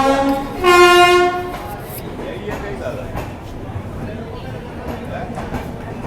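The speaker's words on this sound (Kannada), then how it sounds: "ಇಂಟ್ರೋ ಕೊಡೋದ್ರಾಗ ನಾನು ಟ್ರೈನ್ ಅರೈವ್ ಆದ್ರಿ." The Dakshin Superfast Express arriving at a station, with a loud horn blast followed by a continuous rumbling roll of passing railcars as someone talks over it.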